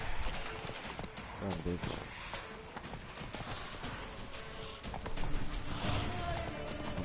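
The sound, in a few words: horse Roach galloping hooves, from video game Witcher 3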